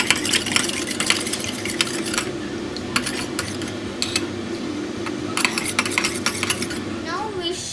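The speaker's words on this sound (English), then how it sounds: "And we should mix." Yeast mixture for mini pizza dough stirred in a bowl, brisk clinking and scraping of a spoon in bursts with brief pauses, close and fairly loud over a low background hum.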